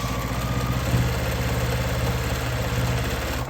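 A sewing machine runs a straight stitch along the edge of a boxy fabric bag, a steady close mechanical whir and hum with no pauses.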